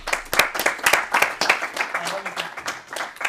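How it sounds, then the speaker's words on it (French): At a post-fight MMA press conference, a small audience claps for a fighter, distinct individual hand claps in an uneven, fairly close burst. "je pense qu'on devrait tous t'applaudir et te féliciter pour ta carrière."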